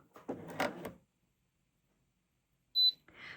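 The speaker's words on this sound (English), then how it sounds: "I press on it until I hear a beep, and you'll hear it right now." A single short, high electronic beep from a Bernina L620 coverstitch sewing machine sounds after a pause, with a voice speaking before it and again right after.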